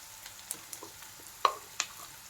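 Bitter gourd and onion fry quietly in a pan for karela sabzi, a faint low sizzle with a handful of sharp clicks and taps from stirring.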